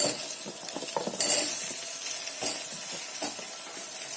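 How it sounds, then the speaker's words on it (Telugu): Pieces of shamagadda (taro) fry in oil in a pan with a steady close sizzle, broken by light scraping and clinking from a utensil. "ఇది కొంచెం నూనెలో వేగాలి చూడండి ఒక రెండు మూడు నిమిషాలు అయినాయి ఇవి నూనెలు వేగుతున్నాయి కదా"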